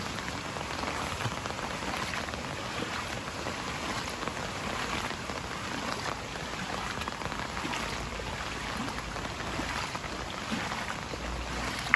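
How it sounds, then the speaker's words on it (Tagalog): Steady rain falling on a surface outdoors during monsoon weather, a dense even hiss of drops continuing without pause, moderate in level and with no voices. "Tuloy na naman yung ulan."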